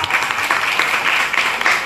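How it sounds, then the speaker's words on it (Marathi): Applause for the host of a Marathi program for women, a dense steady wash of clapping from an audience, loud and continuous throughout the short stretch with a faint voice over it. "तर एकदा त्याच्यासाठी टाळ्या वाज"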